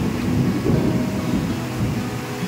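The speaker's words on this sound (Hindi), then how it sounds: "इतनी घनघोर बारिश हुई कि पूरा विहार भर गया था।" Heavy downpour with a deep, continuous rumble of thunder, loud and dense throughout, with no voices.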